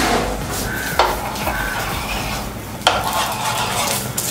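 Kebabs frying in oil in a pan on a gas stove, a steady loud sizzle with a few sharp scrapes and clinks of a utensil stirring.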